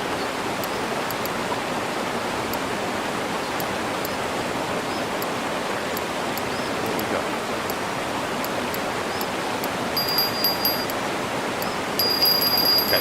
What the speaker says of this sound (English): Love the waterfall as well.